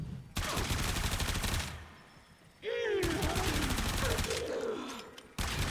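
A modded weapon in a video game fires repeatedly, loud dense bursts of rapid shots in two long stretches, with a short gap between them.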